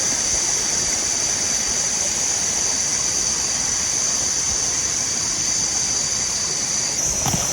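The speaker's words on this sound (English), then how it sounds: "There's a river running behind it. There's also a river in front. And a small waterfall right there." A small jungle waterfall and river on a forest trail rush in a steady, unbroken wash of water noise, close and fairly loud throughout, with a faint high insect hum above it.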